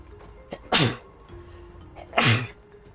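Two loud sneezes about a second and a half apart, over faint background hiss.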